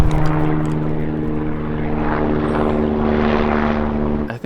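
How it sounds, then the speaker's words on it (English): A fire helicopter passing overhead in California, its rotor and engine drone loud and steady with strong pulsing tones throughout, close and continuous until it cuts off abruptly. "I think that's a fire helicopter."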